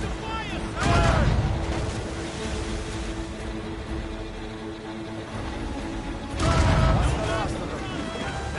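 Ship cannons boom in a naval video game battle, two heavy blasts a few seconds apart over a continuous background rumble of sea and battle noise, with voices heard.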